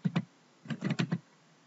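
Two quick keystrokes, then a short burst of four more on a computer keyboard while a block name is entered in AutoCAD, close, crisp and quiet, with no talk.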